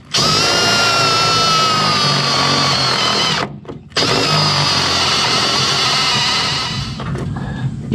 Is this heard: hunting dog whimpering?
no